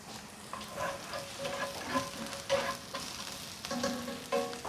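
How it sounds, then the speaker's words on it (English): Onion frying in a pan at medium heat, a steady close sizzle with crackles and occasional stirring scrapes, no voices. "We are going to fry onion for 2 minutes in a middle temperature"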